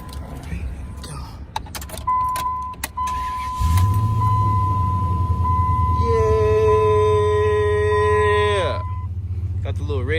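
A Dodge Ram 1500 cranks and fires up, then settles into a loud, steady low idle, with a warning chime tone and rising electronic beeps overhead before they cut out.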